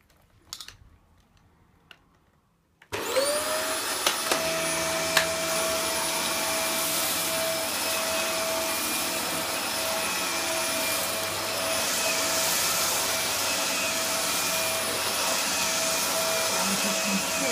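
Quiet handling noises at first, then a faulty vacuum cleaner that fails to pick up switches on and runs steadily with a loud whooshing drone and a high motor whine.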